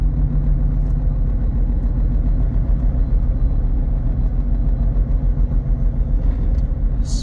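Tire and road noise inside a 2022 Jeep Gladiator Sport while driving, a loud, steady low rumble and drone with a faint engine hum, continuous and without talking.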